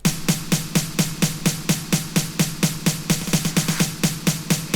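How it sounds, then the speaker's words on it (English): An easy percussion fill for a Melbourne Bounce build-up: loud, evenly spaced electronic hits repeat steadily and grow slightly denser toward the end, with no voice. "it's actually a fill, a really easy fill"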